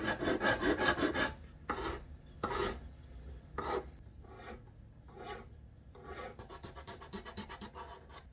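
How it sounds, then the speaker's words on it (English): A file rasping on a violin nut, shaping it during instrument making: quick bursts of dry scraping strokes, a flurry at the start, then slower single passes and a fast run at the end, close and alone. "So next step would be filing the nut to the right shape."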